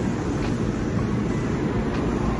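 Light rail train at a station platform in Macao: a steady, loud broadband rumble of the running train fills the whole stretch, with no voices over it.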